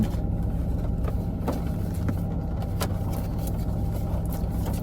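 Inside a moving car, a steady low engine hum and road rumble run continuously without a break, with no talking.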